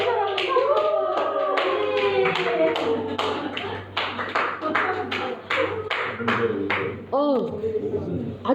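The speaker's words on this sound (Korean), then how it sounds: "다 같이 박수." A group of children and adults at a church children's sermon clap together in an uneven, moderately loud patter, with a voice speaking over and between the claps.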